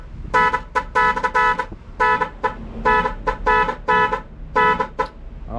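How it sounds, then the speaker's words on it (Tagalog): A tricycle horn being tuned and sounded: loud, near, repeated musical horn blasts in a rhythmic pattern of short and longer toots with brief gaps. "Adjust natin dito sa medyo magandang busina."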